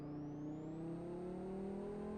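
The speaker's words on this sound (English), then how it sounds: "Lovely 5-cylinder noise from this particular car." A five-cylinder car engine in the racing game Live For Speed hums as a low, steady drone whose pitch slowly rises while it accelerates. It is faint and continuous, with no voices.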